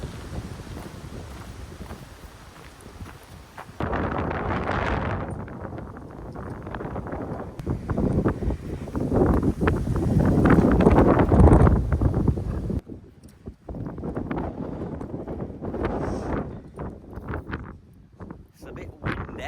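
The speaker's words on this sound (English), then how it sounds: "It's a bit windy." Gusty wind buffets the microphone on Beacon Hill in the UK, loud rumbling bursts rising and falling throughout while people talk over it.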